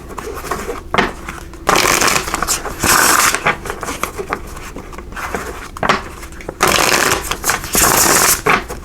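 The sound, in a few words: shuffling Revelations Tarot cards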